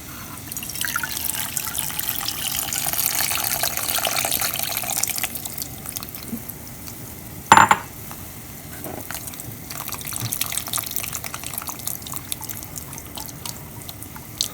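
Tamarind water poured through a strainer into a boiling sambar pot: soft trickling and dripping liquid, with one sharp metallic clink partway through and quieter splashes afterward.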